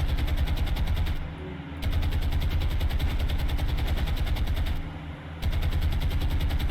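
Naval guns firing in sustained, rapid bursts at an enemy aircraft in the warship game War on the Sea, a dense loud barrage with two short pauses and an engine-like drone underneath.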